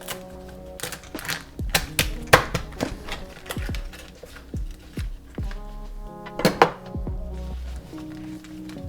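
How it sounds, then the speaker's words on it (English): A knife cuts lobster tails on a hard board, a close series of sharp irregular chops and knocks with short pauses, no talking. "I will now use my knife to get a nice cut."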